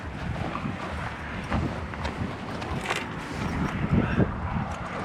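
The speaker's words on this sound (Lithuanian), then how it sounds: "labai jau vėjas didelis" Gusty wind buffets the microphone in a continuous low rumble, rising in strength toward the end.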